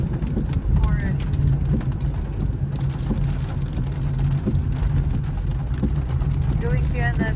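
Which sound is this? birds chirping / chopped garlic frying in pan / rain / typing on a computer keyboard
rain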